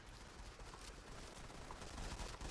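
Rapid automatic gunfire rattles in a dense, continuous burst during Modern Combat 5 gameplay, loud and close with no pauses, alone without any talking.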